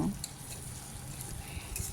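Steady soft sizzling of yardlong beans and potatoes frying in a pan, a continuous close hiss with faint stirring.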